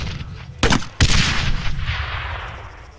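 Two sharp, loud grenade launcher blasts in quick succession in Arma 3, fired at a base door, each followed by a lingering rumbling boom that fades out slowly.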